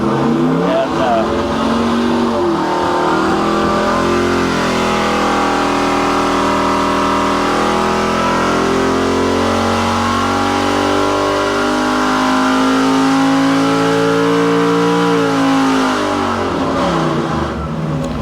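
A custom-built hot rod engine on a dynamometer revs up steadily through rising pitch, holding high and climbing again before easing off, loud, continuous and close for the whole stretch.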